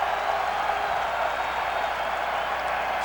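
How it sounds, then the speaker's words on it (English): Crowd at an NFL preseason football game between the Chiefs and Vikings giving sustained applause, a dense, even wash of clapping and cheering from a large stadium audience. "They give him a nice round of applause"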